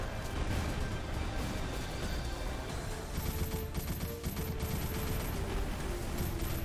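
Rapid gunfire in the mech combat game MASS Builder, a dense, loud continuous barrage of shots with sharp repeated bursts and crashes running the whole time, no talking.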